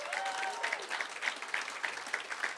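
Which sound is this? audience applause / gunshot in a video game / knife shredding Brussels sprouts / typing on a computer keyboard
audience applause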